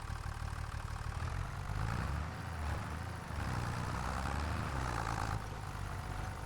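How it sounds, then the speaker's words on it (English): In Farming Simulator 25, a tractor engine idles with a steady low diesel rumble and a few slight surges in revs, continuous and close, with no speech. "so let's jump into the tractor"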